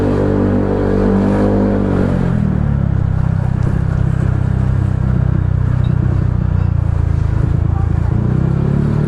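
A motorcycle with an open exhaust pipe, 63 mm bore and 2.5 stroke, idles loudly and close, then its engine note climbs and holds in a steady throaty drone.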